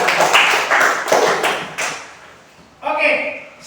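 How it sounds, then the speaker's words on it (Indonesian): Short bursts of hand clapping from a small group of students in a classroom, several quick rounds with a pause between, then another brief burst. "Ya, kita tepuk tangan buat."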